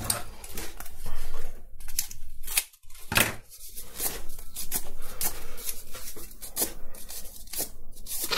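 Scissors snip repeatedly through thin cardboard strips, a steady run of close, crisp cuts with short rustles and one brief pause, heard alone without talk.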